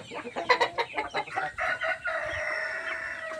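Several chickens cluck and squawk in quick, overlapping bursts, then a rooster's drawn-out crow rings out nearby.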